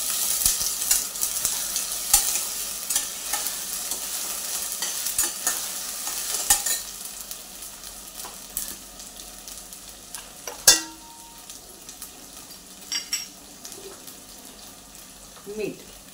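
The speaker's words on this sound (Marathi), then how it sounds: "आता हे कांद्याबरोबर परतून घ्यायची सर्व पेस्ट" Ginger garlic paste sautés with onions in a pan, with a light sizzle under frequent scraping and clinking stir strokes, loud at first and then quieter.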